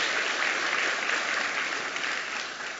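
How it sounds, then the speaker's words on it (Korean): A church congregation gives a steady round of applause during a Sunday morning worship service, dense even clapping that fills the whole stretch and eases slightly toward the end. "다시 한번 박수로 감사합니다"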